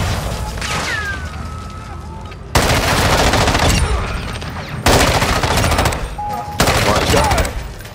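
Heavy gunfire in a video game, rapid automatic bursts coming in several loud, close volleys separated by short quieter gaps, with faint voices in between.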